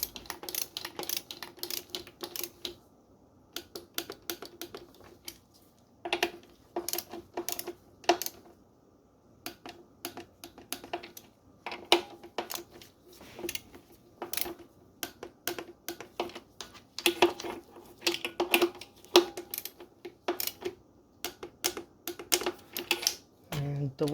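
A click-type torque wrench tightens 12mm bolts to 16 foot-pounds in a crisscross pattern on an Acura, giving sharp, irregular ratcheting clicks in short bursts with pauses, while someone talks throughout.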